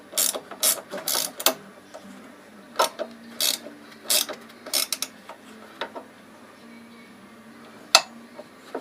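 13mm spanner ratcheting on bolts while engine bars are fitted to a Honda NC700X motorcycle: short bursts of rapid metallic clicking close by, separated by pauses and a few light clinks, with a sharp tap near the end.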